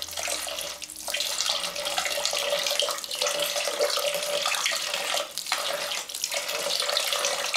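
Water sprayed steadily onto an erosion model of a mountain makes a continuous hissing, splashing rush with brief dips in the flow, close and fairly even throughout.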